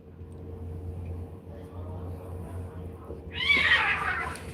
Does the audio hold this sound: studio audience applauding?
no